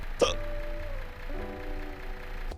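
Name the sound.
hiccups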